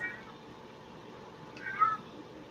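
A short, faint cat meow rises near the end, alone against a quiet background hum.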